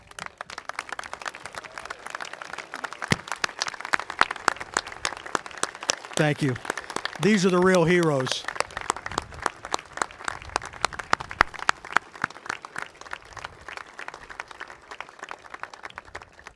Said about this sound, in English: I'd like those sailors and their families to please stand up, and let's give them a round of applause